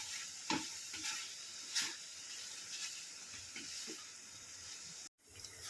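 Sweet sev vermicelli is stirred in a pan over a soft steady sizzle, with faint scrapes and light clinks at irregular intervals, quiet and close, and a brief cut to silence near the end.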